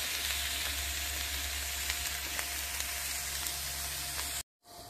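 Squash sprinkled with Kingsford garlic herbs sizzles and fries in a wok, a steady, close crackling hiss that holds evenly for over four seconds before it cuts off abruptly.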